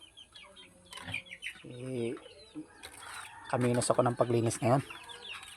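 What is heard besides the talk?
chickens clucking while drinking from a waterer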